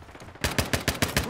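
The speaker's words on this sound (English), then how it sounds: "Taking effective fire." Automatic gunfire in Call of Duty Modern Warfare 2, a steady close burst of about seven loud, evenly spaced shots after a brief quiet start.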